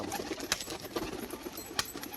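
A male pigeon making its display sounds, with soft coos and a couple of sharp wing claps or flaps standing out over a continuous, faint background hiss.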